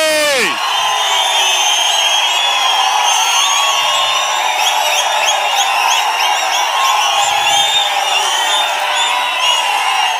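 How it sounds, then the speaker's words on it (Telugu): A huge outdoor political rally crowd keeps up a loud, sustained roar of cheering and whooping, with scattered shrill whistles rising above the wall of voices throughout. "గట్టిగా ప్రసాదరావు గారిని గెలిపిస్తామని చప్పట్లు కొట్టి హర్షాన్ని, ఆమోదాన్ని తెలియజేయండి"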